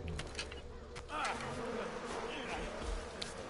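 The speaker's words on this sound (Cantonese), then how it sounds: "又有啲蜜蜂嬲我。" Bees buzzing in the video game Far Cry Primal, a continuous faint drone under game sounds and background noise.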